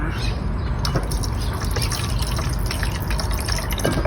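Fish sauce poured into a spicy instant noodle salad gives a steady, close liquid trickle for about four seconds, with no talking over it.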